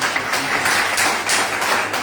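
Sustained, loud applause from an audience in a hall, a dense wash of many hands clapping at once, steady throughout with no voices over it.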